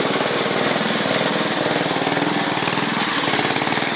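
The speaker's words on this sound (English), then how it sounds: "The best lap over this dumb tractor." A small tractor engine runs steadily with a rough, throbbing mid-pitched chug, loud and close throughout with no talking.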